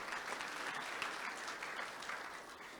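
An audience at a tech talk applauds steadily for a few seconds, a dense, even patter of clapping heard at a modest distance with no voices over it.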